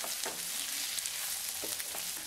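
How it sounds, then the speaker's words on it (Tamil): Green chillies and curry leaves sauté in a pan for a smoked brinjal chutney, giving a steady close sizzle and crackle with occasional stirring scrapes and no talking. "பச்சை மிளகாய், கருவேப்பிலை சேர்த்து வதக்கி விட்டுறலாம்"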